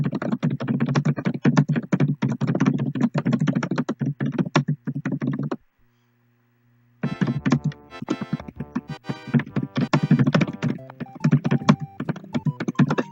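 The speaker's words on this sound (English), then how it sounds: "The furious typing." Furious typing on a computer keyboard, rapid dense bursts of clacking keystrokes up close, pausing briefly midway before resuming at the same frantic pace.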